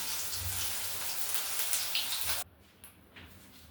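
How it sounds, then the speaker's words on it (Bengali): Snake gourd slices fry in a pan in a village kitchen, a dense hissing crackle for a couple of seconds that cuts off abruptly to near quiet with a few faint pops. "এদিকে আর একটু ভেজে নিই"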